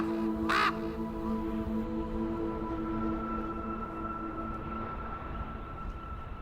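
Ravens call across a dry Canary Islands volcanic landscape, one loud harsh caw up close early on, followed by a low steady drone and faint background rumble.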